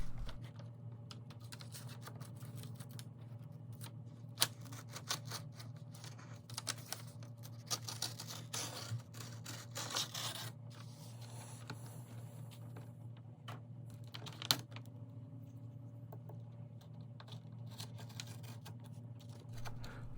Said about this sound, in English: First thing is to cut away the paper backing just a little bit on the bottom half of the frame